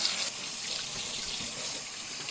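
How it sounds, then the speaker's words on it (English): Water pours steadily from a faucet into a sink while pickles are washed, a loud, continuous close-up gush with no talking. "So we will gently pick them up and wash them off real good."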